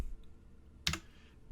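A single quick click of a key struck on a computer keyboard, heard once, faint and alone against a quiet background.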